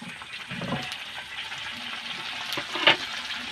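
Leftover rice batter frying in medium-hot oil, a steady close crackle and sizzle with a brief louder spatter near the end as it is stirred.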